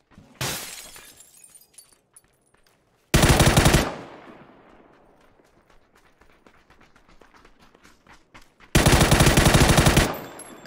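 Bursts of K2 assault rifle fire in the video game PUBG: three loud, sustained full-auto volleys, the second and third nearly a second long, separated by quieter stretches of faint clicks and ambient game noise.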